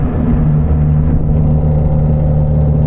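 A Ford Mustang's engine rumbles nearby at a low idle, a loud, steady, deep drone that holds even throughout with no revving and no talking.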